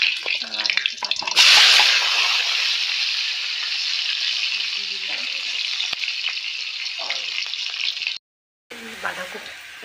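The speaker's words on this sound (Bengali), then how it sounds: "আমি সর্ষার তেলে 5 ফোড়ন দিয়ে দেবো" Whole spices crackling in hot mustard oil for a cabbage dish, a loud, steady sizzle and spatter running almost the full length, briefly cutting out near the end before resuming, with faint voice in the background.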